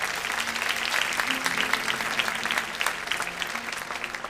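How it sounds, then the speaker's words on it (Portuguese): A church congregation claps steadily and fairly loudly during a sermon, a dense continuous patter of many hands with a low murmur beneath. "Pode aplaudir o Senhor e se ligar com isso."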